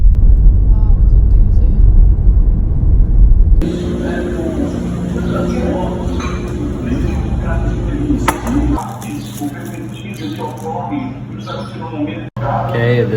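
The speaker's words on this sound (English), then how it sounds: "It's hard on the car. You gotta go real slow on these bumps." A car creeps slowly along a muddy, potholed, bumpy road in Brazil. It gives a steady, close engine and road rumble inside the cabin, and the tone shifts partway through as the car jolts over the rough ground.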